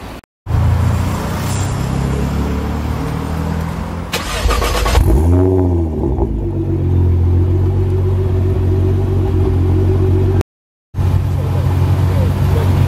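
A 900 bhp Nissan GT-R fitted with a Litchfield aftermarket exhaust idles loudly, then blips the throttle in a rising and falling rev before settling back into a deep rumble, close by, with a brief dropout near the end.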